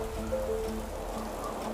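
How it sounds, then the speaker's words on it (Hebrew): Rain begins falling in a climate-themed game scene set in December 2045, a steady hiss of drops with faint sustained musical tones underneath. "אוקיי, מתחיל לרדת גשם."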